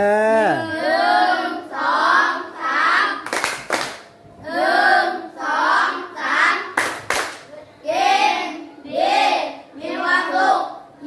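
Children in a Thai classroom drug-education session clap together in repeated short rhythmic bursts, alternating with their own sung or chanted voices at close range.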